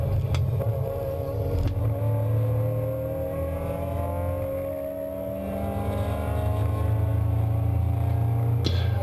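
Race cars lap a track during the closing stages of a 2015 ARRC race, their engines droning and shifting pitch as they pass at moderate distance, with a steady roar throughout and no speech.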